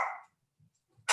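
A dog barks twice at close range in a quiet setting, two short sharp barks separated by near-silence.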